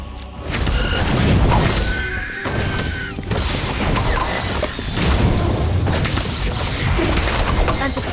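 In a Harry Potter spellcasting game, heavy booming blasts and crashing debris fill the scene, loud and dense with layered impacts and rumbling for several seconds, while game voices speak over the din.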